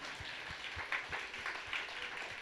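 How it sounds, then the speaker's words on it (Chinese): A church congregation at a Sunday worship service claps to welcome guests, a soft, fairly distant spatter of applause that holds steady for a couple of seconds. "我们掌声给他们欢迎"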